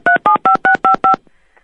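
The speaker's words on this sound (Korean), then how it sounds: "이 전화벨이 잘못 좀 눌린 것 같습니다" Six crisp, evenly spaced telephone keypad tones beep in quick succession as buttons are pressed by mistake, loud and close, followed by a faint tail of quiet noise.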